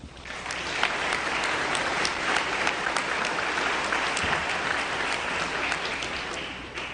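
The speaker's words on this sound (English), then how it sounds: "How about a round of applause?" Audience applause at a high school alumni banquet, a full room clapping steadily at even strength from start to finish with almost no talk.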